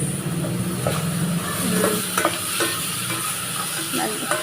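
Onions and garlic frying in a pan make a steady, close sizzle, with occasional clicks and scrapes from stirring. No one speaks.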